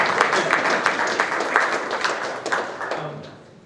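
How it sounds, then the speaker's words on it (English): Audience applause for a mayor at a school election dialogue event, a steady wash of clapping with scattered sharper claps that thins out and fades toward the end. "give it a round of applause for our mayor"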